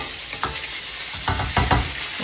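Pansit noodles being stirred and fried in a pan, a steady close sizzle throughout with a few louder scraping stirs near the end and no talking.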